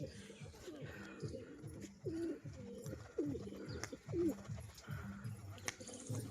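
Domestic pigeons cooing, a few soft throaty coos spaced a second or so apart, over a steady rhythmic rustling background.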